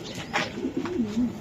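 A racer pigeon, a large hen bird being handled for sale, gives a few soft low coos close by, with light background noise and no talk over it.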